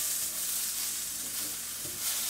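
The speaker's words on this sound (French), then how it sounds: "je vais me servir de la même poêle pour cuire mes poivrons" Bell peppers sizzle in a frying pan that was just used to cook chicken, a steady close hiss with faint stirring scrapes and no voices.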